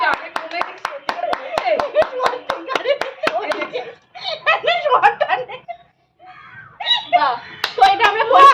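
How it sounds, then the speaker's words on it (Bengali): A group claps loudly in quick, sharp bursts during a blindfolded pot-breaking game with a stick. The clapping then gives way to laughter, giggles and lively voices, with brief pauses between the outbursts. "জোরে হাততালি, জোরে হাততালি"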